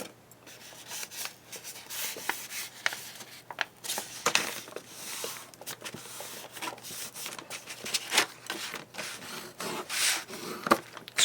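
Paper scored for a handmade journal, heard as repeated close rubbing and scraping strokes with irregular rhythm and soft crinkly handling between them.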